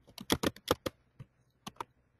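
A computer keyboard is tapped to enter a short name, giving about a dozen crisp, close keystrokes in quick bursts with a short pause before the last few presses.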